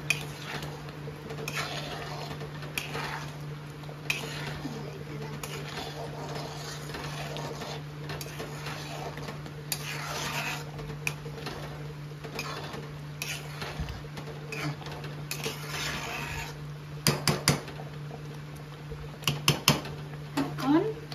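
A spoon stirring garam masala into egg malai curry in a pot, with repeated soft scrapes and clinks against the metal over a steady background hum, sharper taps clustered toward the end.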